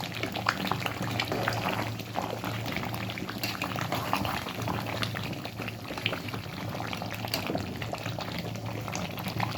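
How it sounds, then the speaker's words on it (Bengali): Meat cooking in a pot for Ramadan, a constant loud bubbling boil with sizzling crackle throughout, steady and close, with no talking. "রমজানে উপলক্ষে গোশ রান্না হচ্ছে"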